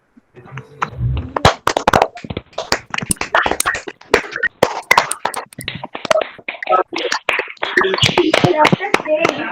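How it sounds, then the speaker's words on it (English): Audience at a school's National Doctors Day celebration clapping to welcome a guest: scattered, sharp hand claps that thicken into fuller applause toward the end, with a few voices in between. "Let us all welcome ma'am with a big round of applause."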